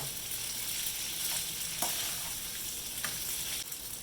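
Noodles are tossed in extra virgin olive oil in a hot pan, giving a continuous close sizzle broken by light scraping and stirring noises.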